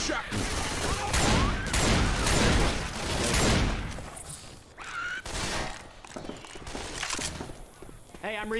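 Gunfire in Left 4 Dead 2, a loud close volley of rapid shots that comes out dense at first and then thins into scattered bursts, with game noise and voices talking over it.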